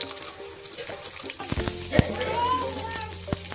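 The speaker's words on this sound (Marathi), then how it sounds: "शेंगदाणे परतून घ्यायचे आधी, थोडेसे मरून कलर करायचा." Peanuts frying in a pan, sizzling steadily with occasional stirring clatters and a sharp scrape near the middle, close by with no talking, while being browned before onion and green chilli go in for a puffed-rice poha.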